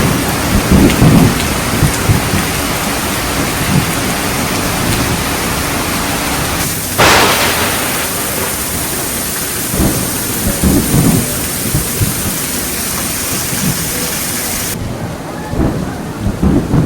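Heavy thunderstorm with pounding rain during a sailing trip from the Philippines to Malaysia, a steady loud downpour broken by a sharp thunder crack midway and low rumbles throughout.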